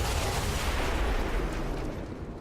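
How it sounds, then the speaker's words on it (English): Explosions in XCOM 2 fill the space with a dense, roaring blast of noise, a loud continuous rumble that fades slightly at the end. "that is every possible explosion"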